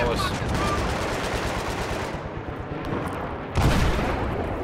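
Gunfire in Battlefield 3: loud, sustained automatic fire crackling continuously, thinning briefly and then returning with a heavier burst near the end, with voices faintly under it.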